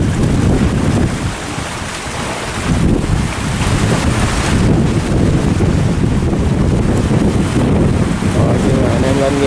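Strong wind roars steadily at a fishing port where a large trawler returns, buffeting the microphone continuously with broadband rumble and gusts, plus faint sloshing water and boat noise underneath.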